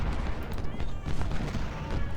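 Ultimate General Civil War battle din: dense rolling musket volleys mixed with deep artillery booms, continuous and crowded over two seconds.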